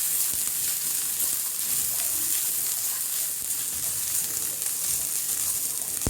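Vermicelli upma ingredients sauté in a pan over a low flame, a continuous soft, bright sizzle with faint stirring scrapes, steady and close with no talking.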